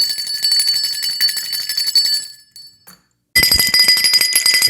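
A bright bell rings loudly in rapid repeated strikes for a podcast intro, then cuts to a brief silence before the ringing starts again just as strongly.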